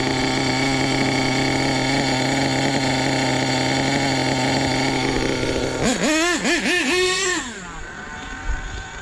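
Nitro RC car engine on a new fuel mixture with a carburetor still out of tune, idling with a buzzy, steady drone, then revving in several sharp rising and falling bursts before dropping back; no speech.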